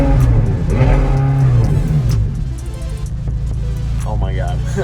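A loud McLaren 570S sports car engine revs hard, rising and falling, then settles into a steady throaty idle with voices talking over it.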